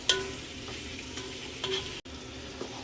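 A spoon stirs sausage through hot grease in a soup pot, with a steady sizzle throughout and a few light scrapes and clinks against the metal.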